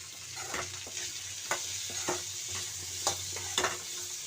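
Onions and cashews sauté in a pan, with a steady close sizzle broken by irregular scrapes and clinks of a stirring spoon.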